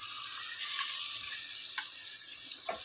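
Green chilies tossed into biryani masala with chicken in a pan give a soft, continuous sizzle and hiss, fairly faint, with a few light stirring knocks.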